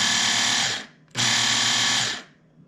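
Work Sharp electric knife sharpener motor whirring at full speed in two close, loud bursts of under a second each, separated by a brief pause and winding down quickly after each release.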